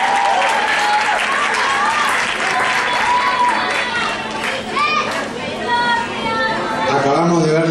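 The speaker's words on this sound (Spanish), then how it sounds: "vamos a pedir un fuerte aplauso para nuestras folclines que vienen mostrando todo en el escenario" An audience cheers and applauds the Master 50 category performers at a pole dance championship final in Argentina, loud sustained clapping mixed with crowd chatter and high-pitched shouts and whoops throughout.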